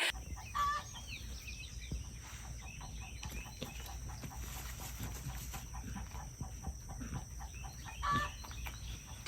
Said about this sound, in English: I heard one of my chickens letting me know that she had laid an egg.